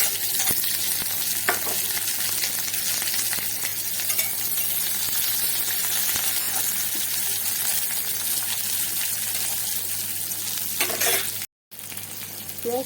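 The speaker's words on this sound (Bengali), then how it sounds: "শুকনো লঙ্কাটা একটু ভালো করে ভেজে নেব।" Onions and chopped dried red chillies fry in a hot pan, a loud continuous sizzle with occasional stirring clinks and scrapes, broken by one brief silent gap near the end.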